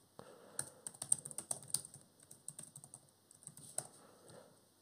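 Credentials typed on a computer keyboard, a fast irregular run of close, crisp key clicks with brief pauses, no talking.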